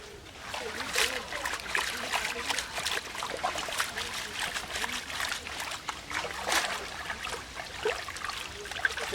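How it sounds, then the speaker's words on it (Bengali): Freshly cut fish rinsed by hand in a village pond at the bathing ghat; close, steady trickling and light splashing of water runs through the whole stretch. "মাছগুলো ভালো করে ধুয়ে নেব।"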